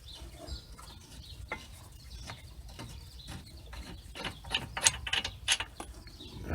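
A ratchet loosens bolts during front brake pad and rotor work on a 2016 GMC Terrain, moving toward the caliper bolts. The ratcheting clicks come in quick bursts, getting louder and sharper toward the end, with no talking.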